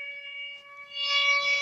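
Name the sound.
air raid sirens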